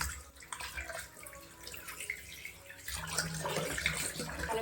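Fish is washed by hand in a bowl of water, with soft sloshing and splashing that grows louder and busier toward the end. No one talks.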